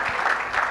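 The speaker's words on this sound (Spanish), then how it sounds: "a quien también recibimos con un fuerte aplauso en esta tarde" An audience at a panel discussion applauds a moderator, a brief burst of dense, continuous clapping at steady volume.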